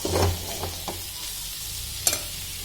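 Cabbage stir-fry with coriander being stirred in a pan, giving a soft steady sizzle with a few scraping stirs and a sharper clink near the end, no talking.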